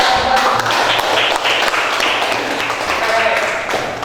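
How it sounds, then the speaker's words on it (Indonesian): A classroom audience breaks into applause, a dense patter of many hands clapping at close range, with voices mixed in. "Yuk kita aplaus"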